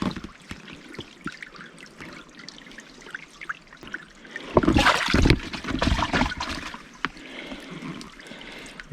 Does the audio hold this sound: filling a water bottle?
yes